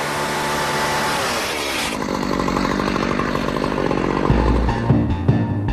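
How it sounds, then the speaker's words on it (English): A loud, revving chainsaw-like saw with a carbide blade grinds through an aircraft's metal in a junkyard, its engine pitch shifting as the blade bites in, continuous and close. "Basically what you'll use is like a chainsaw, which has a carbide blade on it,"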